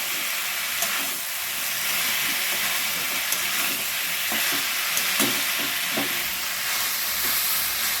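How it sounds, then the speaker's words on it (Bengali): Banana flower and fried potatoes are stir-fried together in a pan, giving a steady close sizzle and hiss with occasional spatula scrapes and taps. No one speaks. "সব দিয়ে ভালো করে এবারে কষিয়ে নিতে হবে"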